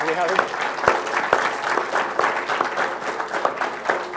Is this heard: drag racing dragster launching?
no